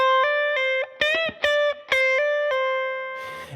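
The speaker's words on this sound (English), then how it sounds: "So you just actually hammer on and pull on those, hammer on and then pull off." Electric guitar plays a short phrase from a song's solo, with clean sustained notes joined by hammer-ons and pull-offs, played alone, loud and close, ending in a soft noisy fade.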